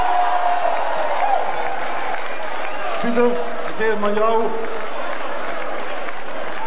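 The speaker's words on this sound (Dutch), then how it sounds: "Applaus!" Crowd applause at a corso parade prize-giving continues as a broad steady clatter beneath someone talking into a microphone, with a few brief cheers rising in the middle.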